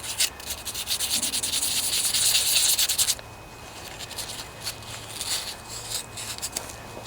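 Hand sanding rust from metal parts of a Craftsman hydrostatic riding lawnmower, close and raspy, a few seconds of continuous brisk scrubbing followed by softer, intermittent rubbing strokes.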